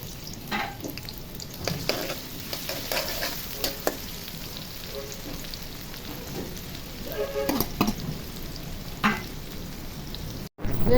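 Chopped onion frying in hot oil in a pan crackles and sizzles continuously up close, with scattered pops and stirring scrapes throughout.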